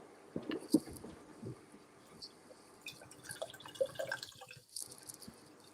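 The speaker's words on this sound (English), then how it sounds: "Mike's pouring a pint" A pint of beer is poured nearby during a reptile livestream, a soft trickling and dripping of liquid in the background with faint voices and other room noise around it.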